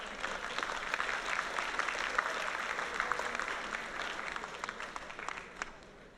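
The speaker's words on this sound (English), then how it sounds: "Give yourselves a round of applause." Conference delegates at a General Conference plenary session give a steady round of applause, a dense, even patter of many hands heard from a moderate distance for several seconds.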